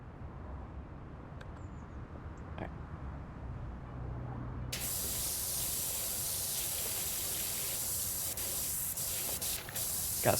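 A pressure washer sprays in the video game Powerwash Simulator 2. After a quiet stretch of faint background noise, a powerful, steady hissing jet bursts on abruptly and keeps blasting loudly to the end.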